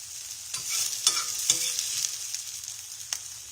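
Onions frying on top of chicken livers in a pan give a bright, steady sizzle, close by, broken by a few scraping clacks from a utensil.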